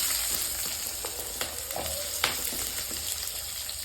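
Two chopped big onions hitting a hot pan, giving a steady, close frying sizzle with a few light clinks and stirs, no talking.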